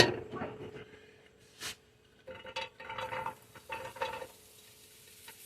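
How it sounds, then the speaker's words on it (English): Hot bacon grease being spread around a frying pan, with soft scraping and sizzling in short bursts, fairly close and moderately loud. "I'm going to spread that grease out"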